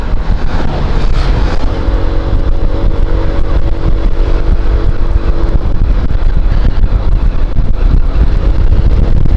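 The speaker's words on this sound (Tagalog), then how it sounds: "May motor sa likod natin." A motorbike passes along a mountain road in La Union, its engine drone loud and steady throughout, mixed with heavy wind buffeting from a moving ride.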